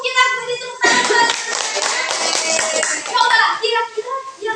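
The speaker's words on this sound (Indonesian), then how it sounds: "Kita beri tepuk tangan." A classroom group claps together during a microteaching lesson, a burst of dense, close hand clapping with children's voices mixed in, tapering off near the end.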